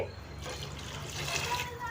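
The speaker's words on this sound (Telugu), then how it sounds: "ఐదు గ్లాసుల బియ్యానికి పది గ్లాసుల వాటర్ అయితే వేయాలండి" Water poured from glasses into a pot of old rice for khichdi, a steady splashing gush lasting under two seconds, close by.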